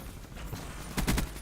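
Burst fire from the XR-2 rifle in Call of Duty: Black Ops 3, a quick cluster of sharp rapid shots near the end of a short, busy stretch of game noise.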